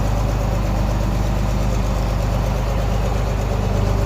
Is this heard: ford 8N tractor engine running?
yes